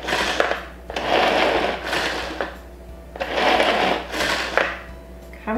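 A manual lever-action kitchen chopper whirs and crunches through avocado, red onion and garlic for guacamole, in four close bursts of blade spinning and chopping separated by brief pauses; no speech.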